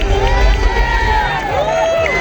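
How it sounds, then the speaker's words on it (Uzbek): A crowd at a marathon award ceremony cheers loudly and close by, with whoops and shouts rising over a dense hubbub. "Olqishlab qo'yamiz yana bir bor azizlar."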